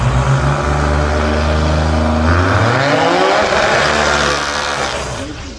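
A drag race car with a small-block Ford SVO engine accelerates hard at a Sydney Dragway nitro drag meet, its loud, close engine note climbing steadily in pitch and then fading slightly at the end.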